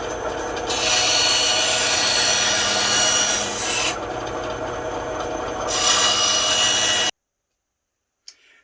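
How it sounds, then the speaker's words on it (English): A bandsaw rough-cuts around a plywood ring, a loud, steady rasping cut running continuously for about seven seconds before stopping, followed by a brief faint knock. "we'll just use the bandsaw now to cut around"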